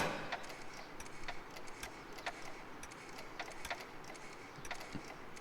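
Steady clock ticking in Back to the Future: The Game, a run of sharp, evenly spaced ticks at close range over a soft background hum, with no voices.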